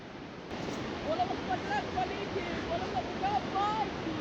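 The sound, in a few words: river water flowing below a suspension bridge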